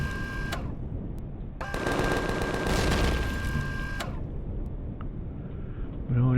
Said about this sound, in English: Let's switch to the Gatling guns and see if there are any little turrets down here.